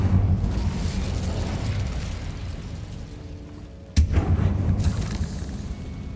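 An Incendio fire spell goes off in Hogwarts Legacy inside an insect-free tomb, one sudden whooshing burst of flame that cuts through a low rumbling ambience, near and fairly loud.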